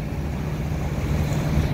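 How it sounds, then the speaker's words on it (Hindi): Boats pass on the open water of a Stockholm harbour, a steady low engine drone mixed with lapping water and wind buffeting the microphone, continuous and fairly loud with no talk. "ये दूसरी बोट जा रही है, एक आ रही है और एक जा रही है।"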